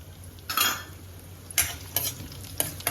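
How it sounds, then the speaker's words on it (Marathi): Whole garam masala, cloves, black pepper, bay leaf and garlic cloves sizzle in a pan under a low hiss, with several short bursts of spatula scraping and stirring spaced irregularly. "तर अख्खा गरम मसाला बघा लवंग आहे काळी मिरी आहे तेजपत्ता आहे लसणाच्या पाकळ्या टाकल्यात त्या थोडा परतवून घ्यायच्यात आपल्याला"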